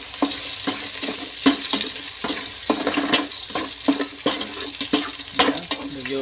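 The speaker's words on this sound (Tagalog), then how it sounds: "Ilagay natin yung sibuyas." Onions frying in a hot pan for pork adobo (adobong baboy): a steady sizzle runs throughout, broken by repeated scraping and clattering as the pan is stirred, close and fairly loud.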